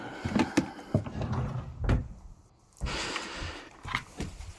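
A drawer being pulled open and rummaged through to grab a Steam controller: a few knocks and clunks, a woody slide, and rattling handling noises close by.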